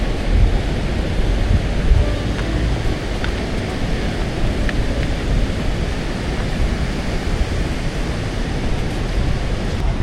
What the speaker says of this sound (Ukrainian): там така здоровена хвиля просто